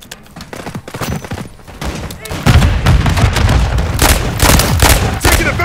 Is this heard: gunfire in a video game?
yes